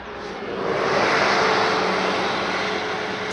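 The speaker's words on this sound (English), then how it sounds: "There's a coach coming here now." A coach passing along a road at about 30–40 mph, a broad rushing roar that swells over the first second, holds, then slowly fades as it moves away, with no one talking.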